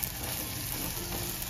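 Drumstick pods and cut potato pieces dropped into a hot pan for a spicy Maharashtrian shevga vegetable dish, giving a steady, fairly soft sizzle that swells briefly near the end, with no talking.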